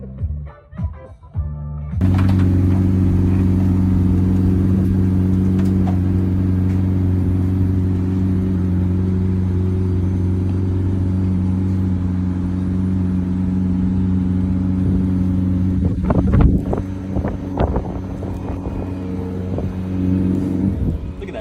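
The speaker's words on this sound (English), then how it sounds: "The Tate brothers managed to get their hands on a pair of supercars, which they then used to drive around Bucharest." A pair of supercars driving through Bucharest streets, with a loud steady engine drone that holds after a sudden start, then a brief rougher surge near the end, close to the listener.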